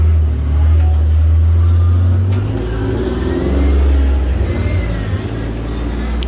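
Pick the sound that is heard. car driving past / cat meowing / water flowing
car driving past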